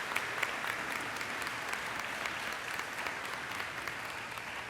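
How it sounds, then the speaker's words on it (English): A sustained round of applause fills a hall at a school matriculation ceremony, steady dense clapping from a large audience, even in level and somewhat distant. "Let's have a round of applause for the peer mentors."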